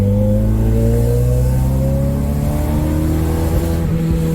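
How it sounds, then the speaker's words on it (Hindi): A Honda K20 Type R car engine revs loudly and close by, its droning tone climbing steadily in pitch as the throttle is held open. "गाड़ी की आवाज बहुत डाटी है उस्ताद, बड़े मजे की आवाज है।"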